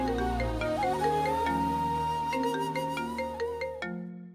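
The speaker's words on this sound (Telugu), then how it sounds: "ఎస్ఐ గారు ఫోన్ చేస్తున్నారు." A phone ringtone for an incoming call plays alone as a short melodic electronic tune of sustained tones and quick notes, moderately quiet, stopping abruptly near the end.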